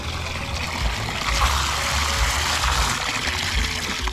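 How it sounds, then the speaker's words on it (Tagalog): A Pedrollini water booster pump runs while water flows from a tap, a loud, steady rushing gush with a low rumble underneath that holds constant throughout, with no talking. "pupwersahin na niyang hihigupin yung tubig sa tangke"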